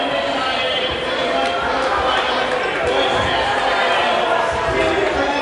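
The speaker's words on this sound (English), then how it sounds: "The crowd is loud and they're giving it back and forth to each other." A loud crowd fills a high school basketball gym with a dense, steady roar of chatter and shouting, and a voice speaks over it.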